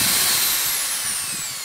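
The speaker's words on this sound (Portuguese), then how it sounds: "Lembrando que a furadeira, ela é muito forte, olha aqui" Electric power drill running steadily at full speed, used to bore into the floor of a Hot Wheels miniature die-cast car; a continuous loud whine with a faint descending pitch, heard alone without talk.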